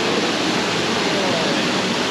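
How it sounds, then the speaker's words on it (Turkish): Cold mountain stream water in Colombia pouring and rushing steadily, a continuous close, loud broadband wash of flowing water with no break. "Aa, şuradan geliyor su."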